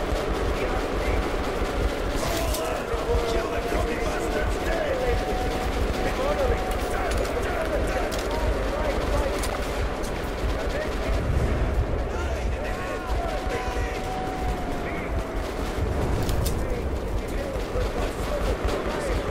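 Rapid gunfire goes on while an enemy is shot repeatedly in the shooter game Metro Last Light Redux, a dense continuous rattle of shots over a loud, busy combat background.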